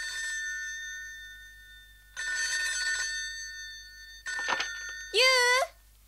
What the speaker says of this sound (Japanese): トシオくんから電話よ